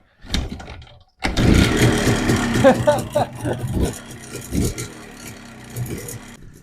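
Old Minsk motorcycle engine starting up after a brief quiet, then running with an uneven, sputtering idle close by while someone talks over it.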